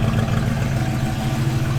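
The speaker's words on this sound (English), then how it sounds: "Good sounding exhaust." Exhaust from a 1968 Chevrolet C10 pickup rumbles steadily at a fast idle, a deep, even burble close by with no other sounds over it.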